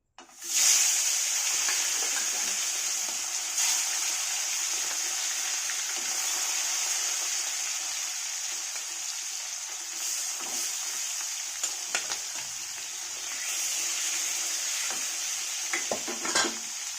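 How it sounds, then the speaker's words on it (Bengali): Fish fries in hot oil in a wok, giving a steady, even sizzle that carries through the whole stretch, with a few faint clinks and stirring noises now and then. "এই দেখো কড়াইটা কিন্তু গরম হয়ে গেছে তেলটা। তো এখন আমি মাছ ভাজা চড়াবো।"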